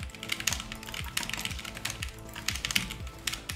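Rapid typing on MrSavage's gaming keyboard during Fortnite play, a fast, dense patter of crisp key clicks close to the microphone with no voices.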